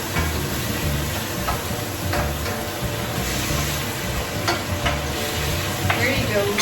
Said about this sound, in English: I'm gonna give it one last stir